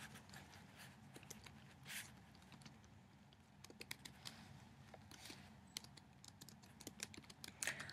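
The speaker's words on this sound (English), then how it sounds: "let's start by typing our topic into ProQuest" Typing a search topic into a research database on a computer keyboard, steady quick clicking keystrokes at close range with irregular bursts, fairly faint and with no talking.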